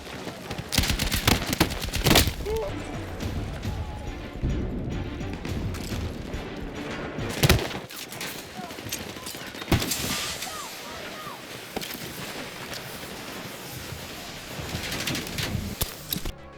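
Rapid bursts of gunfire crackle alongside sharp explosive bangs in the Battlefield 6 beta video game, dense and layered, with faint mechanical clatter between shots.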